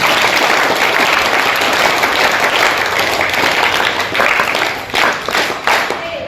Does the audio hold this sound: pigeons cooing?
no